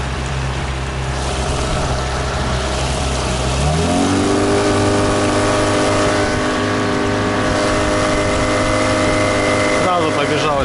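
A new Gladiator 9.9 outboard motor being broken in on open water drones steadily, then its pitch climbs as the throttle opens around four seconds in and holds a loud, even whine.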